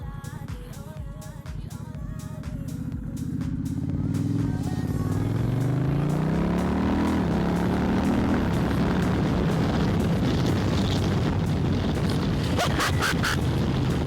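A truck passes close by, its engine rumble building from a distance into a loud, drawn-out roar that rises in pitch and then lowers, with the noise staying heavy to the end.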